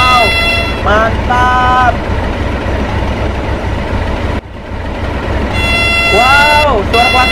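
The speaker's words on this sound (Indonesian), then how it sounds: "Coba kita dengarkan suara klaksonnya seperti apa ya" Diesel locomotive D301 blasting its horn loudly outdoors, two long blasts with a pause between them and then a third, over steady engine rumble, with a man's brief remark.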